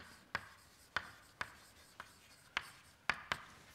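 Chalk taps and strokes on a board as an equation for an overdamped Fokker-Planck system is written out, six short sharp marks spaced irregularly over a quiet room, close and fairly faint.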